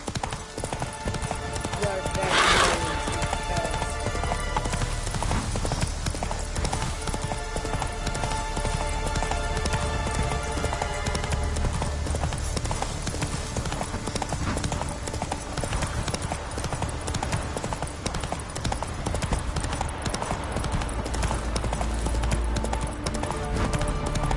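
Roach, a horse in The Witcher 3, gallops with rapid, steady hoofbeat clip-clops throughout, loud and continuous against rain-like ambience, with someone speaking over it.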